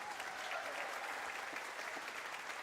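An audience applauds for a saxophonist of a U.S. Navy jazz band, a thick, sustained wash of clapping from many hands with no voices above it.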